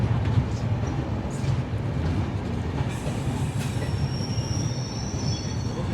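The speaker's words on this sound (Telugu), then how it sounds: "అది ఐసెఫ్ రేక్ అయితే వెళ్తుంది" An ICF-rake passenger train rolls through Guntakal station with a steady, loud rumble of wheels and carriages, faint squeals and clatter rising over the continuous noise.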